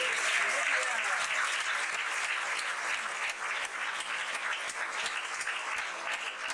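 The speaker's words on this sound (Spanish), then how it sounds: "Démosle un aplauso a la esposa del pastor." Sustained applause from a church fellowship gathering's audience, dense and even clapping filling the room at moderate level throughout, with some crowd murmur underneath.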